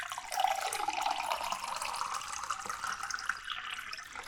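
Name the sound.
pouring water to drink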